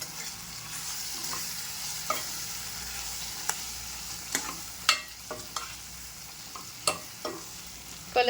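Three spoons of Everest sambar masala frying in a pan, a soft continuous sizzle punctuated by repeated spoon clacks and scrapes as it is stirred, close and fairly quiet.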